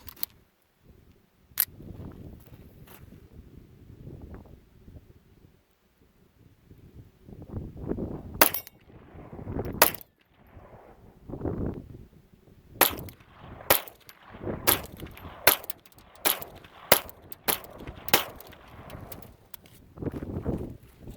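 A Ruger Mark IV Tactical pistol fires cheap Federal ammunition, sharp cracking shots coming singly and then in quicker runs, close and loud against quiet gaps, with handling clicks between them.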